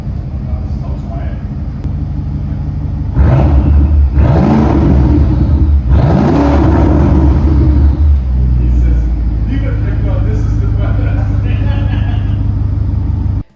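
A BMW 650i with an M Sport exhaust revs hard in two loud, close bursts that rise and fall over a deep rumbling idle, then settles back to a steady low drone.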